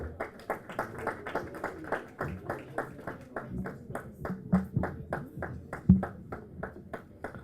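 An audience at a university graduation ceremony in Dubai claps in a steady, fairly even beat. The sharp claps repeat several times a second and sound moderately distant and soft, with little talk over them.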